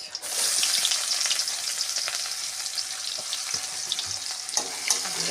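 Garlic and onion fry in a pan for a leafy greens dish, producing a dense, steady sizzle with light crackling and occasional stirring sounds, close and loud, without talk.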